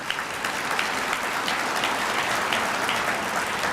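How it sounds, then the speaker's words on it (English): An audience at the Mississippi Municipal League 2021 annual conference claps continuously for several seconds, a thick and even wash of applause with no voices above it. "Give yourselves a round of applause."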